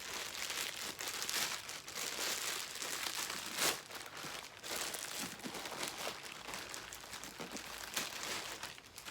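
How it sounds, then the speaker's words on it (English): Packaging from a Coach bag being unwrapped, with steady crinkling and rustling of paper or plastic throughout, close and continuous with occasional sharper tearing crackles. "Let's start unwrapping."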